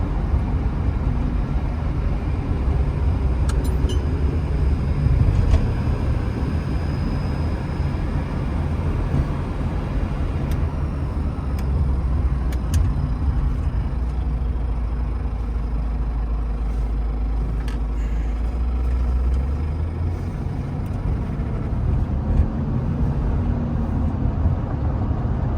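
A 1975 Mercedes-Benz 450SL cruises along a road, its engine giving a steady low drone under constant road and wind rush heard from inside the car, a slight drop in engine pitch near the end, no talk.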